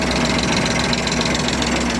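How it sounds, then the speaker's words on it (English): A sailboat's inboard engine idles in a steady, close, rumbling drone with a continuous mechanical knock while warming up, loud and unchanging throughout. "It's always a good idea to make sure your engine starts and let it warm up a little bit before you leave"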